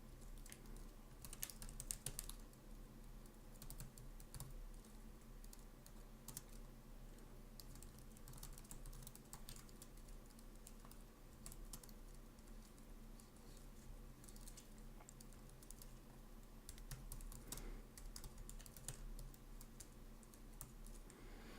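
Code for an Express route is typed on a computer keyboard as a steady, quiet patter of key clicks, continuous and close, with no speech over it.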